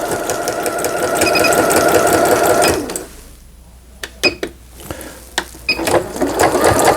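A Singer 7640 sewing machine sews a zigzag stitch, a loud rapid mechanical chatter that stops after about three seconds, followed by scattered clicks and a brief restart near the end.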